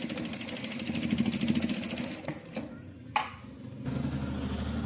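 A sewing machine stitches the neck of a blouse, giving a fast, even mechanical chatter for about two seconds before it slows, with a sharp knock and then a quieter low hum.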